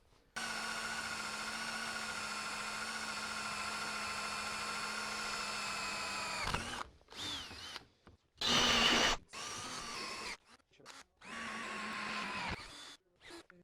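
A power drill whines steadily for several seconds, drilling pilot holes to screw coping into a 2x4 support on a skate ramp, then cuts in and out in short bursts with brief pauses between.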